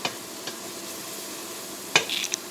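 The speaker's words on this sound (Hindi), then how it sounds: "मसालों को थोड़ा सा हम फेरेंगे" Spices are stirred in a pot for beef paya, a quiet steady sizzle under occasional sharp scrapes and clinks of the spoon against the pot, no talking.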